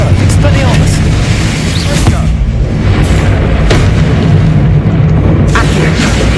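Confringo blasting spell in Hogwarts Legacy gameplay, a continuous rumbling barrage of booming explosions with sharp bursts at intervals, loud and dense throughout, layered over game music and ambience.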